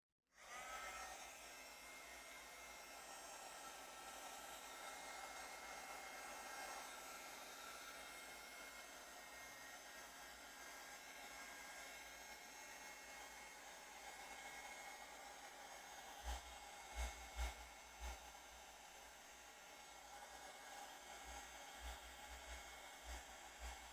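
A hair dryer blowing on a craft page runs as a continuous steady whoosh from start to finish, close and fairly loud, with a few low bumps and handling knocks near the end.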